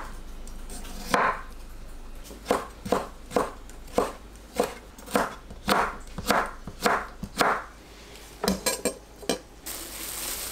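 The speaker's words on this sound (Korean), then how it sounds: "오이를 채 썰어서 사용합니다." Knife strokes cutting cucumber into thin strips on a cutting board, about a dozen crisp, fairly regular chops close by with short pauses, no talking.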